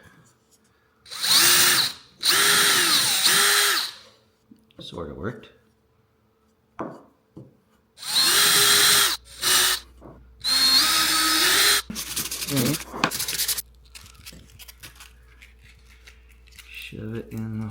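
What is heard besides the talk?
power drill drilling a hole in a pitcher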